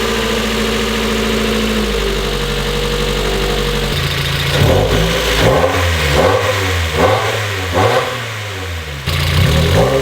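A car engine on poly engine mounts idles steadily, then fires up into a series of sharp revs rising and falling, close and loud, with no talking.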